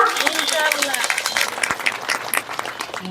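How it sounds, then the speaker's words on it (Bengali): A crowd claps at a political rally in Bangladesh, scattered applause rising under a speaker's amplified voice over a few seconds. "হাততালি দেন তার জন্য একটা।"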